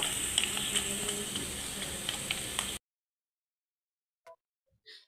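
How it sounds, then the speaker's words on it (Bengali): Onions and garam masala frying in a pan for beef nehari, a steady close sizzle with faint stirring clicks that cuts off abruptly into silence, followed by a couple of brief soft knocks. "পেঁয়াজটাকে নরম করে ভাজা হয়ে গেলে আমি এর মধ্যে গরম মশলাগুলোকে দিয়ে আরও কিছুক্ষণ ভেজে নিব"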